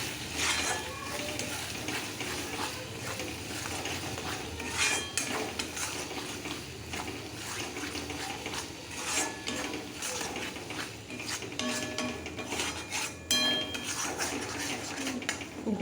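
A spoon clatters and scrapes against a pan as masala paste is stirred and sautéed, with repeated metallic knocks over a soft frying hiss and no speech.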